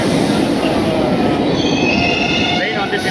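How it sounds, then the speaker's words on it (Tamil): Suburban train pulls into Puzhuthivakkam station on the Velachery to St. Thomas Mount line, with a steady rumble, high squealing wheels and clatter, loud and close from inside the carriage. "இப்போ புழுதிவாக்கம் ஸ்டேஷனுக்கு ட்ரெயின் வந்துட்டுருக்கு"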